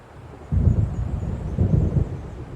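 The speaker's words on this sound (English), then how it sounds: "It seems there's a storm coming." Low rumbling thunder rolls in from an approaching storm near a lake lodge in Alan Wake Remastered, two deep muffled swells in quick succession over a faint steady background.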